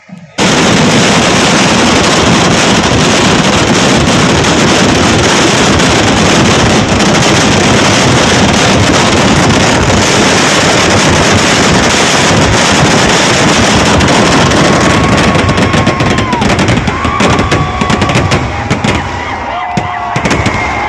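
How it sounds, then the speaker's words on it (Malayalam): Fireworks burst at the Nenmara festival in a dense, continuous roar of crackling explosions that stays loud and close throughout, with wind buffeting the microphone. "എല്ലാ തവണത്തേക്കാട്ടും സൂപ്പറായിട്ടാണ് ഇപ്രാവശ്യം വെടിക്കെട്ട് നടന്നത്"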